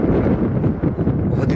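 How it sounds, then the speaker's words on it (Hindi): Strong wind roaring across a mountain village in Kinnaur, Himachal Pradesh, a loud steady buffeting rumble on the microphone with no voices. "हवा की आवाज़ इतनी तेज है कि मेरी आवाज़ दब सी रही है"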